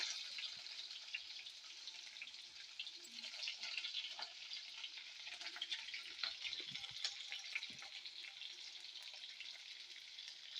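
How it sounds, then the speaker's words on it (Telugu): Green chillies and onions fry in oil in a pan, a steady close sizzle with scattered crackles and occasional stirring scrapes throughout. "కొంచెం ఆయిల్ అయితే వేసుకుందామండి ఇలా మనం కట్ చేసుకున్న పచ్చిమిర్చి ఉల్లిపాయలు"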